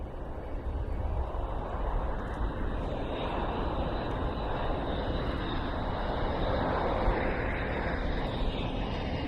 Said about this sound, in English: That KC-135.